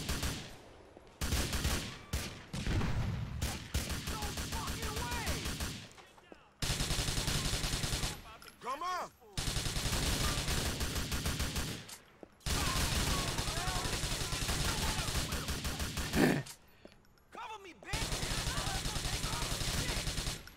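Repeated bursts of automatic gunfire from Grand Theft Auto IV: The Ballad of Gay Tony, loud stretches of rapid shooting separated by short quiet gaps, with a voice speaking between volleys.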